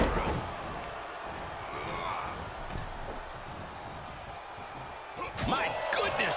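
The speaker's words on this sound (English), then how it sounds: "My goodness, did you hear that chop?" A chop strike lands in a wrestling video game, with slams and smacks ringing out over a steady roaring arena crowd and game commentary, and a sharper burst of impact and cheering near the end.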